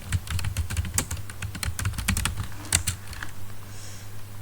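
Keys clatter on a computer keyboard in quick irregular bursts of close, crisp clicks that slow and fade toward the end.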